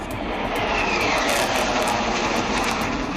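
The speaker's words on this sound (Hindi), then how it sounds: "आसमान में लड़ाकू विमानों की ये गर्जना सरहद पार दुश्मन भी सुन रहा होगा।" Loud, unbroken jet roar from Sukhoi 30 MKI fighters passing overhead during a Republic Day rehearsal flypast in Delhi, steady and dense throughout with no voices.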